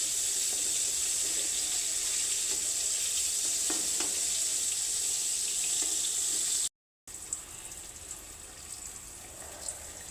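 Eggplant slices fry in a pan with a steady, loud, hissing sizzle, broken by a short gap and a few faint scrapes as pieces are turned, with no voices.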